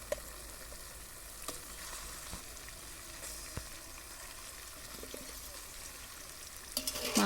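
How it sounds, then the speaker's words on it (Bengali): Pieces of mutton sizzle in fried spices in a pot as biryani is cooked. A steady, quiet crackling continues under occasional clinks and scrapes of stirring. A louder burst of sizzling comes near the end, with no talking. "এবার আমি মাংসগুলো দিয়ে দিচ্ছি।"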